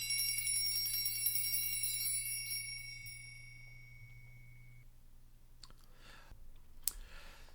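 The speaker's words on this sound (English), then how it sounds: "for his bells again were ringing" A jester's bells ring with bright, shimmering tones that slowly fade away, leaving near silence broken by a few faint clicks.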